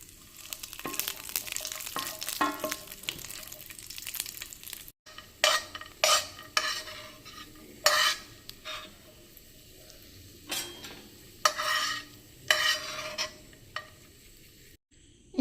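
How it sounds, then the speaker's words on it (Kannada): Almonds and cashews being dry-roasted in a pan, with a soft background sizzle and repeated scraping, rattling stirring strokes at an uneven rhythm, close and with no voices. "ಆಮೇಲೆ ಬಾದಾಮಿ ಮತ್ತು ಗೇರು ಬೀಜಗಳನ್ನು ಹುರ್ಕೊಳ್ತಾ ಇದ್ದೇನೆ"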